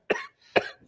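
Two short, sharp coughs from a man in quick succession, close and clear against near silence.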